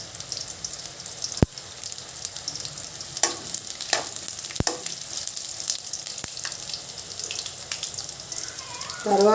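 Peanuts and cumin roasting in a pan for peanut chutney produce a continuous dry sizzle with a few sharp clicks and pops, close and fairly loud, with no talking.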